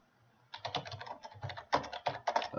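Rapid typing on a computer keyboard, close and clear, with quick irregular bursts of key clicks and short pauses, and no talking.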